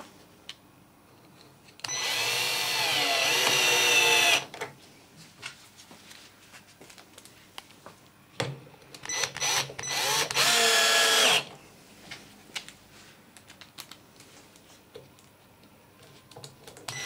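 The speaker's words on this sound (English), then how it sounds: "So we've now drilled three holes there that should be in the exact right position for the actual screws." Power drill boring pilot holes for hinge screws into wood, two loud bursts of high whirring a few seconds each, separated and followed by quieter handling knocks and clicks.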